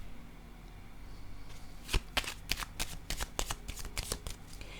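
Tarot cards being shuffled before another draw, a quick run of crisp riffling snaps in an uneven rhythm, close and clear over a quiet room.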